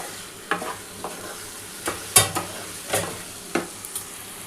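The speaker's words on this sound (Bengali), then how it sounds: "একটু কষানোটা খুব ভালো করে করতে হবে বন্ধুরা" Shrimp being stir-fried in masala in a pan with potatoes: scattered spatula scrapes and stirs, about a dozen separate strokes over steady low sizzling, close and fairly quiet, no voices.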